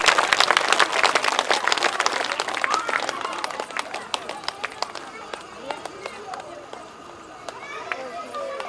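An audience at a Bhagwat Katha religious gathering in Najafgarh, Delhi claps loudly to welcome guests. The dense applause starts strong, then thins into scattered individual claps over about nine seconds.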